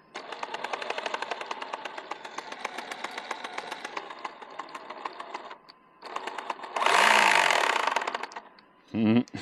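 An MJX 16208 RC car's drivetrain grinds and scrapes in a steady, rapid buzzing run for several seconds, followed by a louder, harsher burst and then a short whining rev near the end.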